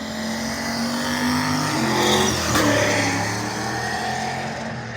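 Drag racing cars, a Monte Carlo and a Pontiac, accelerate down an eighth-mile strip, engines roaring loud and steady with revs swelling and shifting as they pass, a brief tire squeal amid the din.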